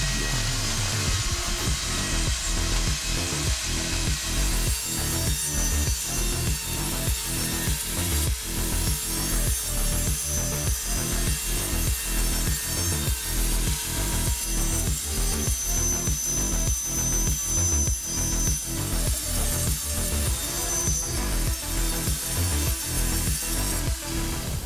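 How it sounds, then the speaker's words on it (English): LT70WS wood cutting machine sawing wood into small panels, a steady loud mechanical whir with a fast regular rhythmic chatter running throughout, no voices. "The LT70WS cutting machine not only helps cut wood into small panels but also collects sawdust"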